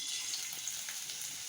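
Finely chopped ginger sizzles in a little ghee while tempering for rava pongal, a soft, faint, steady frying hiss that lasts only a moment.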